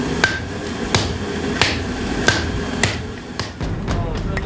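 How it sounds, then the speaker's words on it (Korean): Several workers strike a heated bronze disc with hammers in traditional bangjja brassware forging, a series of sharp metallic clangs in an irregular rhythm, each ringing briefly, close and loud. "이번에는 달군 바둑을 여러 명이서 망치로 내려치는 매질을 할 차례인데요."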